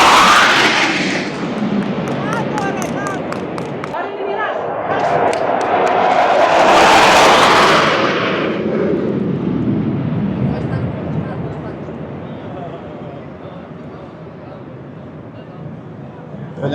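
A loud, rumbling military jet roar swells and peaks overhead, then slowly fades into a lingering low rumble, with voices talking underneath, during an Independence Day flyover in Athens, Greece.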